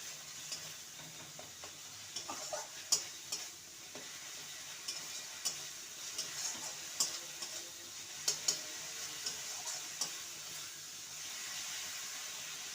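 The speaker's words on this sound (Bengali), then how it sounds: "এবারে দিয়ে দেবো গরম মশলার গুঁড়ো ভালো করে নেড়ে নেব" Garam masala powder being stirred into frying masala for an egg potato dhoka curry, a faint steady sizzle with light, irregular spatula scrapes and taps, quiet and without voices.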